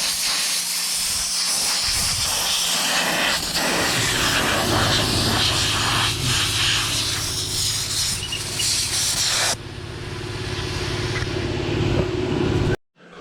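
Compressed air blows the outer air filter of a John Deere combine from the inside out in a cramped farm shop, a loud, continuous rushing hiss that shifts in tone as the nozzle moves, then cuts off abruptly near the end.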